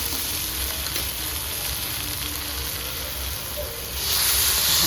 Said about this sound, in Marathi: लाल शिमला मिरची पेस्ट आणि थोडीशी भाजी घेऊन चांगली परतायची